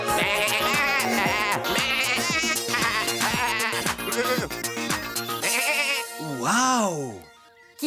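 Cartoon sheep from Tractor Tom bleating in a lively overlapping chorus over bouncy music, quavering calls repeating rapidly, then a single drawn-out bleat as the music drops away.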